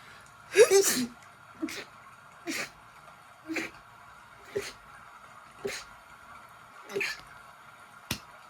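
A loud sneeze followed by a rapid series of seven more sharp sneezes, evenly spaced about a second apart, close to the listener.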